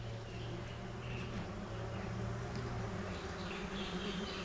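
A swarm of bees hums steadily and densely around a nest being cut down, a close, even drone that stays at about the same level throughout with no talking.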